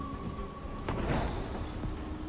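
Steady rain hisses over a low rumble and a faint electronic tone in the video game Detroit: Become Human, with a brief swell of heavier noise partway through.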